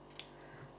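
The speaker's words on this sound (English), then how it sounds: "then I snip off just to get that in, and there, and the paper doesn't strain" A single quick snip of scissors cutting paper while shaping a mixed-media dress form, close and quiet in a still room.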